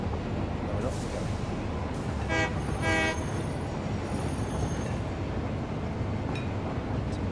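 Train in the factory-building game Satisfactory rolling past with a steady rumble, two short horn-like blasts partway through, under continuous noise.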